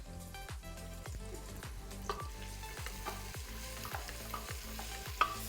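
Sliced onions fry in hot ghee with a bay leaf, a quiet sizzle under rhythmic spoon scrapes that come about twice a second, close by.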